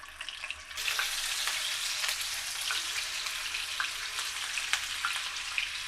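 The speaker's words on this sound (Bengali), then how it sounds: "এখন আমি এগুলো ভেজে নেব। ডিমগুলোকে একটু ভেজে নিতে হবে।" Steady, loud sizzle of eggs frying in hot oil in a frying pan, crackling continuously with scattered pops and spits throughout.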